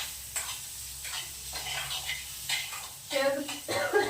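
Paneer frying in a pan, with a soft steady sizzle and occasional stirring scrapes, and a voice talking over it in places.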